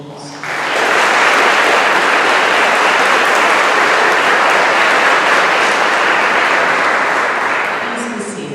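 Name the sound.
applause for campus staff and faculty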